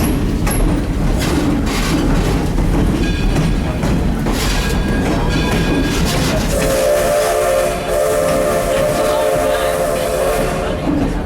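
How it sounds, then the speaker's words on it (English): Historic Edison, a rebuilt 1870 Manchester-type steam locomotive, pulls a passenger train with a steady loud rumble and hiss, then a long sustained steam whistle blows from about the middle of the run to the end. "The locomotive pulling our train today is the historic Edison, a completely rebuilt 1870 Manchester-type locomotive."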